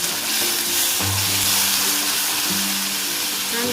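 Chopped onions sauté in a hot pan for a Gujarati dum aloo, giving a steady, close sizzle and crackle that runs without a break, with a few faint clinks from stirring.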